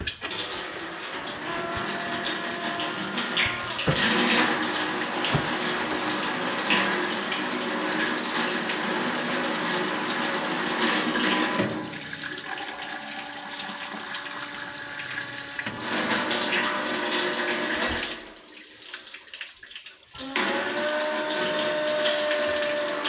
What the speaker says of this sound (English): I'm going to get the hot water.